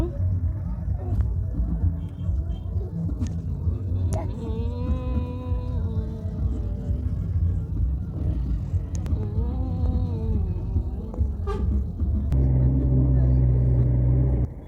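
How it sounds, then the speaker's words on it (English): Car driving on a road in Cameroon between Yaounde and Bamenda, heard from inside the cabin as a steady loud engine and road rumble throughout, with voices talking over it. "Well, I'm just in the car."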